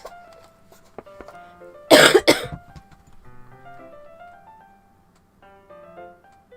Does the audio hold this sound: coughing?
yes